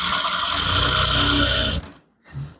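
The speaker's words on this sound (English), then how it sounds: "Then stitch down the lining." A sewing machine stitching down the lining of a palazzo trouser runs in one loud, close, continuous motorised whir, then stops abruptly and sounds one short burst after a brief pause.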